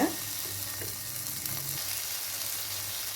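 Pineapple pieces grilling in a pan, giving a steady soft sizzle and crackle with a few light scraping stirs, close and fairly quiet with no talking.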